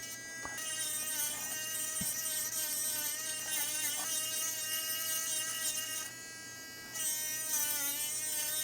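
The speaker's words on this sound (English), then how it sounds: "The goal is to evenly kind of grind through the chip." Rotary tool grinding through an iPhone CPU chip, a high thin whining buzz with steady harmonics that dips briefly and returns, quiet and continuous with no talking.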